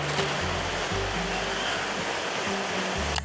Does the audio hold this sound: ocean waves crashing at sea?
yes